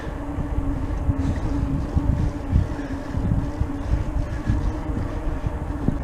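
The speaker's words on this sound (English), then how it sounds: "This wind's still I think it's getting worse" Strong wind buffeting the microphone in the countryside, a continuous low rumble with uneven gusting bumps throughout and no talk.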